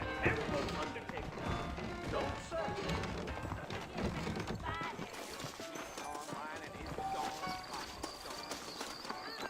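Horse hooves clip-clop along a trail in the Western video game Red Dead Redemption, a loose rhythmic beat heard beneath busy game music and character dialogue.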